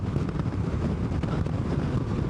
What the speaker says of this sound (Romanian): efectiv e prea mult vânt pentru mine